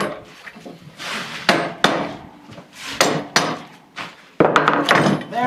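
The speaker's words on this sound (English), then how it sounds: "Get those clamps out of the way." Clamps knocked loose from a wooden board in a workshop, a series of sharp hammer-like knocks and wooden clunks with a metallic clink, irregular and close, with some brief voice in between.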